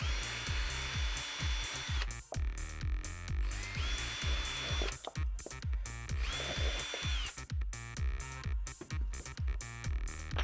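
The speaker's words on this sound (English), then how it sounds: "I just find the drill is quick, fun, and makes a loud noise" A power drill boring a hole into a recycled planter, its loud whine starting and stopping in three bursts of a couple of seconds each, over a busy backdrop of rhythmic knocks and clatter.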